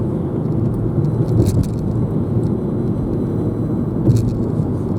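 A car drives across the long Story Bridge in Brisbane, its steady road and engine rumble filling the cabin with even tire noise and a couple of brief higher swells, no talk.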